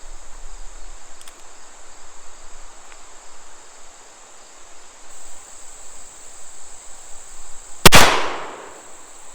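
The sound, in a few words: Pietta 1858 Remington revolver gunshot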